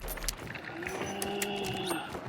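A low, dry, groaning heave from an armored enemy in an extraction video game rises and falls, a guttural creature-like bellow over a noisy game background, with no talking.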